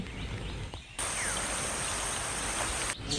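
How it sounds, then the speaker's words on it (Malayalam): Rainy forest ambience in Periyar Tiger Reserve, Thekkady: a soft, steady wash of rain and flowing streams with a thin, continuous insect drone on top. Everything stays faint and distant, with a brief dip partway through and no talking. "ഇവിടെ എല്ലാം കാടിന്റെ ശബ്ദമാണെങ്കിൽ ഒരു രക്ഷയില്ല എന്ത് രസമല്ലേ കേൾക്കാനായിട്ട്"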